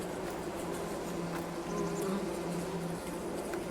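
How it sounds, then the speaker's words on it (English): A steady, close insect drone of bees in Farming Simulator 22, buzzing continuously with no pauses and no talking. "I guess today we got bees."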